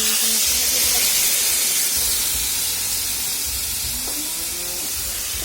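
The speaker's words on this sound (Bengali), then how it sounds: "এখান থেকে একটু গরম জল নিয়ে মশলাটার মধ্যে দিয়ে দিলাম" Hot water poured into a sizzling spice paste in a pan, a loud dense hiss of steam that stays steady and slowly eases off, close up and without voices.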